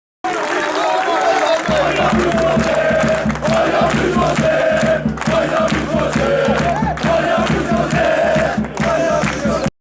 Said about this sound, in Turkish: Meşaleler yakan taraftarlar özellikle teknik direktör Jose Moreiz'e tezahürat yaptı.